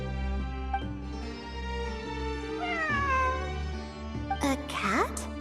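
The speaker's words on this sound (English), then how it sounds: "It really is a cat." Cat meowing in the Genshin Impact video game, several drawn-out meows with rising and falling pitch near the middle and the end, over steady background music and a speaking voice.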